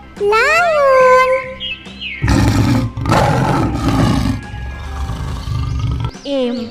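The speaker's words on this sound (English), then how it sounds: "L for lion." A loud lion roar sound effect rumbles for several seconds in a children's alphabet rhyme, following a high voiced sing-song phrase and ending with a brief voice.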